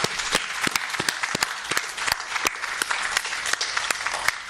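Audience clapping at a press release for Uganda's senior six exam results, a steady crowd applause with distinct sharp individual claps popping out near the microphone throughout.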